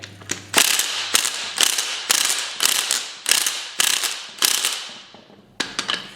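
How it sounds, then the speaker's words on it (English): Impact wrench hammering on a front strut nut of a 2001 Mazda Protege, loud close bursts repeating in eight or so rhythmic rattling pulses with brief pauses between, no talking. "I'm going to use the impact to get the nut off"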